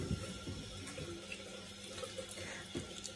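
Tap water runs steadily into a sink during handwashing, a continuous splashing hiss with a few small splashes and bumps, close and moderately quiet, with no talking.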